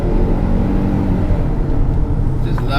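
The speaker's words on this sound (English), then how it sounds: "Just love the sound of that engine" A Haval H6 car engine hums in a steady, continuous drone from inside the vehicle, with a faint rise near the end and no speech over it.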